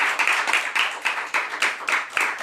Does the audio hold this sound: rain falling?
no